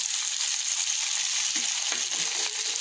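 Onions sizzle in hot oil alongside fried koi fish in a pan, a steady, close, bright hiss with a faint stir or two near the end.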